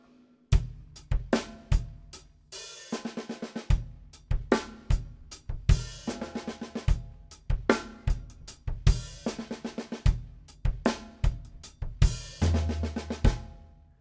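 Acoustic drum kit played in a lesson groove, with a quick six-note fill dropped into beat four of each bar, the snare and tom strokes crisp and close alongside steady kick and cymbal hits, no talking.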